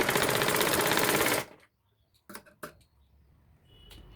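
A sewing machine double stitching a potli bag whirs loudly and steadily for over a second, then stops, followed by a few soft clicks and handling taps.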